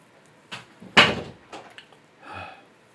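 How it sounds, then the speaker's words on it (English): An indoor door is pushed shut with one firm thud and a brief rattle, surrounded by a few lighter knocks and shuffles close by in a quiet room. "I'm closing the door."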